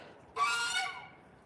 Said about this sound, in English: The ducks are anxious to get into their little pool too.